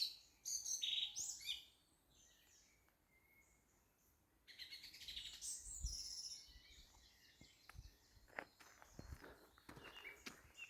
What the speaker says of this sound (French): On entend l'éveil des oiseaux.